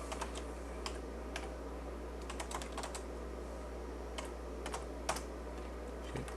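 Quick, irregular clicks of notes being typed on a computer keyboard, close and fairly soft over a steady low background hum, in short bursts with small pauses.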